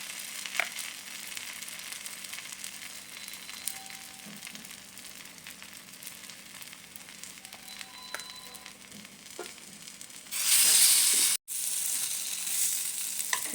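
Semolina-coated bread toast fries in an oiled pan with a steady, close sizzle throughout, swelling into a louder, brighter hiss near the end as the slices are turned or pressed.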